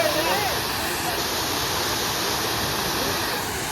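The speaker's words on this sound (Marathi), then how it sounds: "हा बघा धबधबा." A waterfall on a road trip between Devgad and Vaibhavwadi gives off a steady, broadband roar of falling water, loud and unbroken throughout, like close, continuous rushing.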